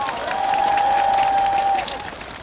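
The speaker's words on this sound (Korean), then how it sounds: "큰 박수 부탁드립니다" An audience at a Korean Democratic Party political event applauds after officials are introduced, with a dense burst of clapping and some cheering and a sustained tone ringing over it before the noise fades.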